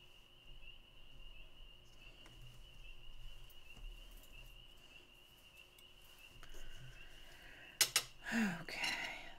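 Spring peeper frogs keep up a faint, distant, steady high-pitched chorus, with a few closer clattering handling noises near the end.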